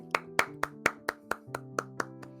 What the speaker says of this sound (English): We'll start clapping.